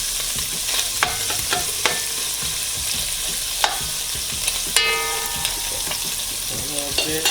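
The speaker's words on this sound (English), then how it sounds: "Fry it for a little bit, and add my green onion, my garlic, my white onion, with some tomatoes." Green onion, garlic, white onion and tomatoes frying in a pan, a dense, steady sizzle with scattered clicks and scrapes of stirring, close and continuous with no talk.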